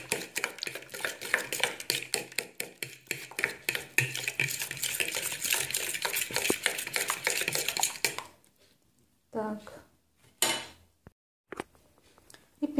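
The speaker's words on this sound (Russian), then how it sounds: "И это теперь опять все перемешиваем хорошенько." Dough mixture of butter and cream is stirred hard in a bowl: rapid rhythmic scraping and clinking for about eight seconds, then quiet with a few isolated knocks.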